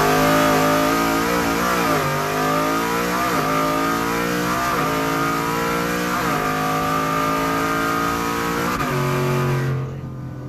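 A supercharged Ford F150 with an ESS supercharger, stock motor and 10R80 transmission, revving loud and close as it accelerates through repeated upshifts, the engine note climbing and dropping with each gear change before cutting off at the end.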